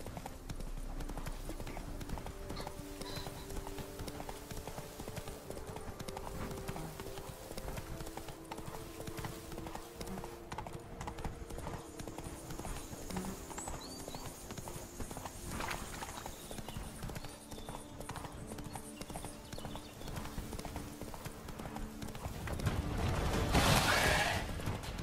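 Horse galloping in the video game The Witcher 3, a steady rapid clip-clop of hooves under faint ambient music, swelling into a louder rush near the end, with brief talk.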